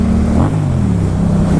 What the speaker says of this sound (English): Much to the dismay of the livestock in my area, my exhaust sounds wonderful.